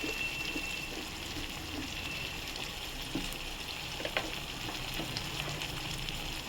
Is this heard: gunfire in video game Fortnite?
no